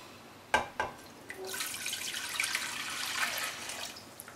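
After a couple of clinks, a steady stream of water pours into a container, running continuously at moderate volume.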